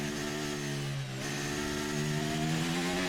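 An F1 racing car engine in the F1 23 video game revs at high pitch, holding a sustained whine that dips briefly and climbs again, loud and continuous without speech.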